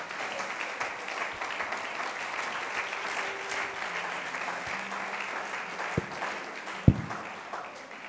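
A church congregation applauds the Lord, steady broadband clapping filling the room with a few louder individual claps standing out near the end; a faint voice murmurs beneath.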